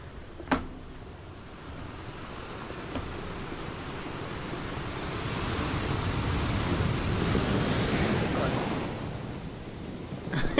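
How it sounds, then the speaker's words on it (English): Ocean surf and wind roll in as a continuous roar that swells louder through the middle and eases near the end, with a brief knock at the start and no clear talk. "That's the ocean in the motion, baby."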